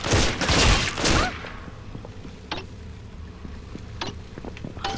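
Enemy gunfire erupts in BioShock 2, a dense loud burst of rapid shots at first, then fading into scattered sharp cracks and ticks against a quieter background.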